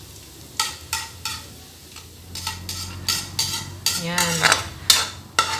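Garlic frying for fried rice, with a utensil scraping and stirring the pan in repeated bursts over a soft, steady sizzle, close and clear, with a brief spoken word.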